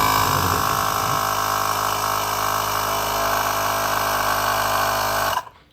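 A wireless car tyre inflator runs with a steady, loud mechanical whine and motor hum from start to finish, then cuts off abruptly in the last half second.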